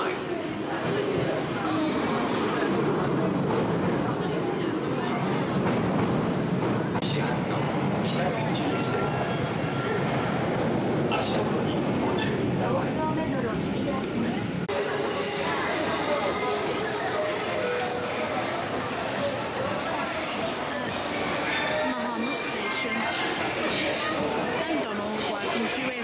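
A train pulls into an underground platform at a Tokyo station bound for Kitasenju, its rumble and wheel noise rising and settling over a busy crowd, with a platform announcement and people talking throughout.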